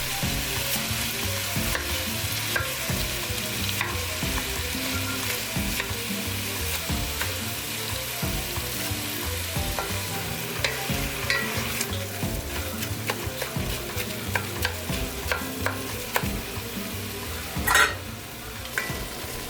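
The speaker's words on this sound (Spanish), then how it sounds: "Ahora es el momento de agregar la carne. Yo tengo 500 gramos de carne de res." Ground beef, 500 grams, sizzles and fries steadily in a pan with softened onion while being stirred, a continuous close crackle with scraping of the utensil, no voices.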